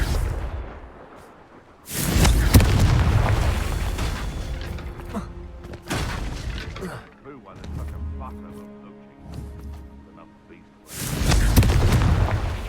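Confringo fire spells explode in Hogwarts Legacy, giving several heavy booming blasts that land roughly every few seconds, each with a rumbling tail and crackle. A voice speaks between the blasts.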